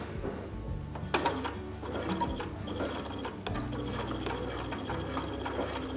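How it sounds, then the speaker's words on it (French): A sewing machine runs steadily while stitching along the front and back neckline of a lined garment, a continuous mechanical whir with a few brief louder clicks, close and alone. "Et je pique ainsi sur tout le décolleté avant et le décolleté dos."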